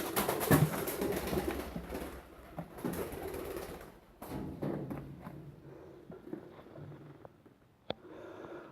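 A pigeon cooing inside a building, with low soft coos over rustling and some knocking sounds, then a sharp click near the end.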